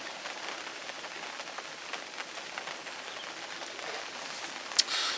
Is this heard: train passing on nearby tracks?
no